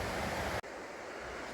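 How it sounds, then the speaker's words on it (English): A river flows beside a walking path in Little Langdale, Cumbria, a steady nearby rush of water blended with wind noise and broken by one very brief dropout. "We're following the river on our left."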